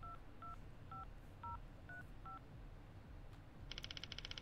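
A hotel room telephone is dialed: six separate keypad tones beep at a steady pace, then after a pause a rapid burst of pulsing tones follows, all faint and close with no talking.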